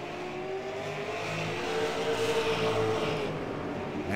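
Race cars circling the Las Vegas Bullring oval with about 11 cars still running, engines droning steadily with a rising, revving pitch as one passes close by.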